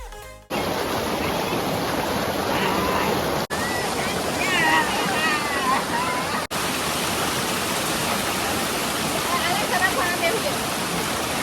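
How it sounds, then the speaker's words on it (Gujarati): The Hathni waterfall, heard from the top where the water drops, sends out a loud, constant roar that stays even throughout, with a few faint voices mixed in. "અને આ છે હાથણીનો ઉપરનો નજારો. અહીંયાથી ધોધ નીચે પડે છે."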